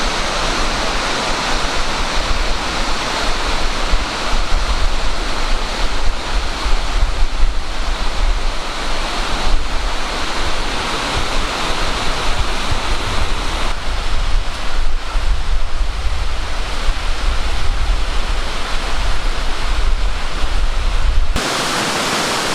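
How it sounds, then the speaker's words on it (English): Amicalola Falls, Georgia's tallest waterfall in a state park, roars as a steady, loud broadband rush from close beside a staircase, continuous and unbroken until it cuts off near the end. "You get to walk the staircase right beside the waterfall the whole way down."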